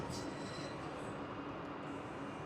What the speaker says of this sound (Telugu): ఇది స్పెషల్ ట్రైన్ కాబట్టి నెమ్మదిగా తీసుకువెళ్తున్నాడు